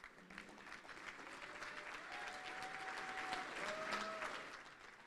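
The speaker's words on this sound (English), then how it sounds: "everyone give a warm round of applause to Haifa." Sustained audience applause at an annual banquet, a steady wash of clapping from a crowd that swells slightly toward the end, with faint tonal sounds above it.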